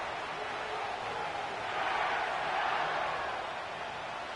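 A steady, loud stadium crowd roar fills SoFi Stadium in Inglewood in an EA Sports NFL football video game, swelling slightly midway, with no distinct voices.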